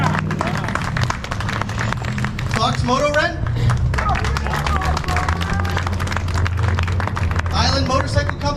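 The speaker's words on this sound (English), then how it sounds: "So a big round of applause for Weaver's Leather." Crowd at a motorcycle shop gathering applauds sponsors, steady mixed clapping and cheering with voices and chatter throughout.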